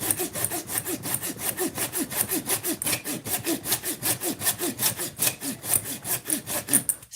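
Steady back-and-forth sawing through a pine knot of resinous fatwood, close and loud, with a quick regular rhythm of strokes that runs unbroken throughout with no voices.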